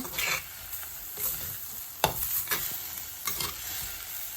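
Banana blossom and drumstick leaves being stirred in a pan with a soft sizzle, scraping strokes recurring every second or so, one sharper clack partway through, close and fairly quiet with no talking.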